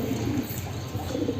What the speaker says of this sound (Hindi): ये एक जंगली कबूतर है, पर पूरे ब्लैक कलर में